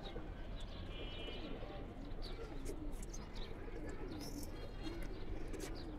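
Pigeons, including a red-brown-necked one, give faint, low cooing calls at a distance, with light chirps and insect-like background noise continuing throughout.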